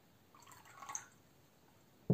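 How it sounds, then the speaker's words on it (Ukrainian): Soft trickle of holy water being poured into warm drinking water, a faint brief splash and drip, quiet overall, ending with a sudden louder knock. "І додаю до неї йорданської священої води."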